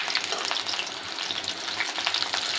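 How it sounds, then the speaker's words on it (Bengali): Eggplant slices fry in hot oil in a pan, a dense crackling sizzle with scattered sharp pops, moderately close and steady with no talking. "দেখতে পাচ্ছেন ভেজে নিচ্ছি"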